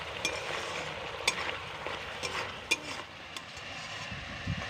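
Onion paste frying lightly in a pan for a Bengali tangra fish curry gives a soft, continuous sizzle, broken by a few sharp clicks of stirring.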